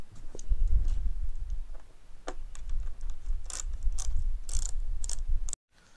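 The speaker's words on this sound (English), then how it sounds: "Step one, get your star screwdriver and take the 6 screws off." Star screwdriver backing out the windscreen screws on a 2017 Suzuki GSXR1000, with soft ratcheting clicks and small metallic ticks close by, alone, over a low background rumble.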